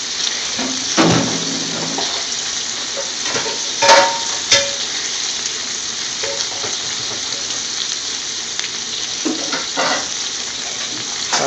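Scotch bonnet and naga chilli sauce sizzling and frying in a pan, a steady close hiss with occasional stirring clinks and scrapes.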